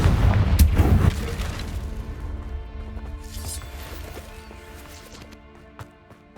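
A Confringo blasting spell in the Hogwarts Legacy game sets off a loud, close explosive boom with crackling impact, then decays into a tonal magical ring with scattered faint pops and clicks.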